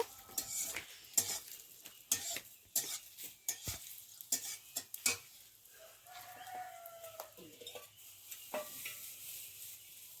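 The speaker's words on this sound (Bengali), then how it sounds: "তো পেঁয়াজ কুচি আর রসুন কুচি দিয়ে ভাজা হচ্ছে" Chopped onion and garlic frying in a pan, with a soft sizzle and repeated stirring clatters from a spatula, outdoors with a rooster crowing in the background.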